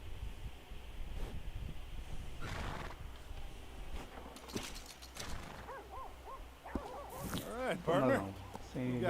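Horse whinnies and snorts in the Red Dead Redemption 2 video game, with hoof clops and scattered game sounds; someone talks over parts of it, and the neighing grows louder near the end.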